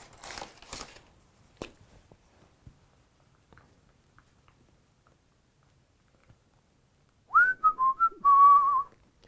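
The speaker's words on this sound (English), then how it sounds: "I like to whistle while I work." After soft tapping and rustling, a person whistles a short, wavering tune near the end, clear and close, with no talking.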